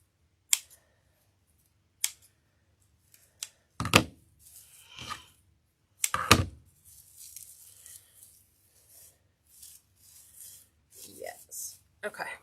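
Scissors snipping wreath material in a few sharp, separate cuts with quiet rustling of material between them, close to the listener.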